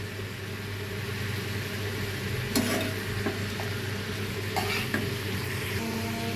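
Thinly sliced papaya frying in a pan, a steady close sizzle with occasional stirring scrapes and clatters, no talking.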